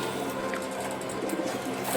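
Pigeons kept and raised in a loft coo softly and continuously in a steady murmuring background, close but faint, without talk.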